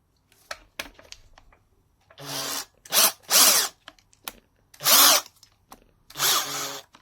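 A Makita 8443D drill rattles in hammer mode in short, loud bursts of harsh buzzing, about five separate pulses with quiet gaps and faint handling noise between them, close to the mic.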